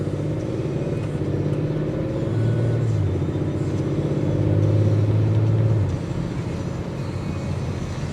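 A 2023 Audi RS5 Sportback in RS mode hums along with a steady, low engine drone from inside the cabin, swelling briefly as it pulls harder mid-drive before settling back to a smooth cruise.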